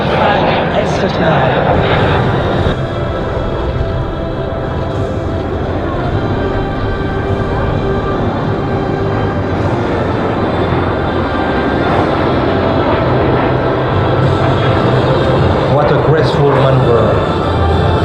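An L-39 jet of the Breitling Jet Team roars past at a twilight airshow display, a loud sustained engine rush across the whole clip, with a voice speaking over it.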